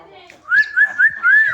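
A pet hill myna gives a run of four bright, rising whistled calls in quick succession, loud and close, after a short quiet start.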